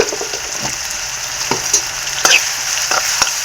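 Potatoes and onions cooking in a kadai with turmeric, a loud close sizzle running throughout with scraping stirring strokes at irregular intervals and no voices.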